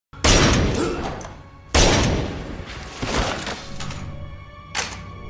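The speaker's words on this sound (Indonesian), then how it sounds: "langsung tewas dengan ditembakkan beberapa kali rentetan peluru" Several loud, sharp bursts of pistol gunfire ring out close by, each with a long ringing decay, followed by a fainter shot near the end.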